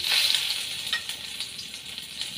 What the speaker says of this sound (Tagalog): Medyo gisa muna natin.